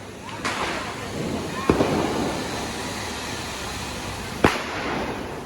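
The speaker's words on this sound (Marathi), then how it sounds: "इथं फटाके फोडतायत." Sharp Diwali firecracker bangs go off a few at a time, some close and cracking, others farther away, over a steady outdoor hum with people talking.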